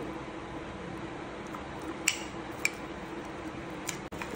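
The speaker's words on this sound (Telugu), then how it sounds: "మొత్తము అవకాడోను మ్యాష్ చేసుకుందాము" Ripe avocado mashed by hand in a bowl, giving soft, faint squishing with a few brief sharp clicks and taps over steady low background noise, no talking.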